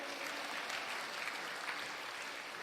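A church congregation claps together during a sermon, a dense, even wash of applause from many hands that carries on steadily without a break.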